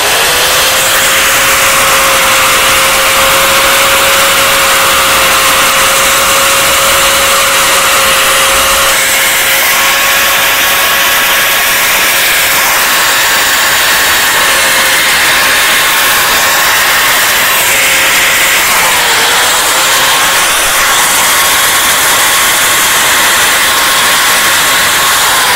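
An electric drill bores a ring of holes through a wooden chair frame being prepared for cane webbing, its motor whining loud and close for a long steady run, the pitch dipping briefly as the bit bites, with no talk.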